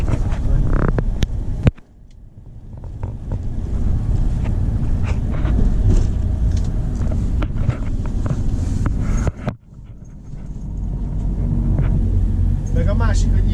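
Boat travelling on the water in Thailand, a steady loud rumble of hull and engine with wind buffeting the microphone, briefly dropping out twice, while people talk over it.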